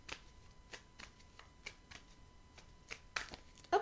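Tarot cards are shuffled for a reading, a quiet series of soft, sharp card flicks and riffles with small pauses between them and a louder snap at the end.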